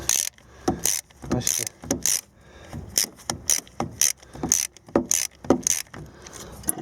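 A ratchet wrench clicks in quick bursts as a starter bolt is loosened on a Peugeot Partner 1.9D diesel van, the rapid pawl ticks coming close and loud with short pauses between strokes.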